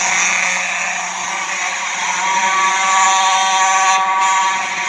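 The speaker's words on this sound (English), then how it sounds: "Real alarm." A fire alarm sounds steadily and loudly with a harsh, buzzing electronic tone, continuous for several seconds with a brief dip in its upper ring near the end.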